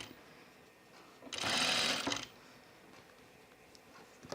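A single short burst of sewing machine stitching along a Sophie dress seam, under a second long, close and brisk, set against a quiet room with faint handling noises before and after.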